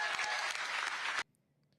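Dense audience applause at a political speech in Texas about property tax laws, loud and steady, then cutting off abruptly into near silence.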